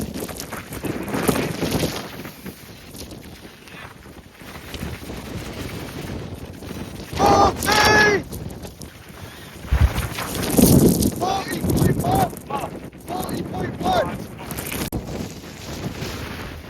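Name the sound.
strong wind storm blowing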